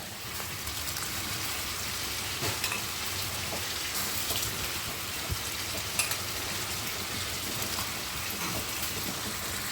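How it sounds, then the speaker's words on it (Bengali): Soaked rice tipped into hot oil with cinnamon, cloves, bay leaf and black cardamom, giving a steady, close sizzle and crackle that holds evenly throughout with a few sharper pops. "এখন চালগুলো দিয়ে দেব"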